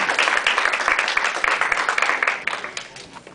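Church congregation at a Quadrangular service applauding, a dense wash of clapping that fills the whole stretch at steady loudness with a few voices mixed in.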